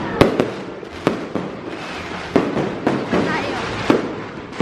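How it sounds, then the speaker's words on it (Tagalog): Fireworks bursting outdoors on a Christmas-season night, with sharp repeated bangs and crackling spread over several seconds, while people chatter and exclaim underneath. "Fireworks! Ang ganda!"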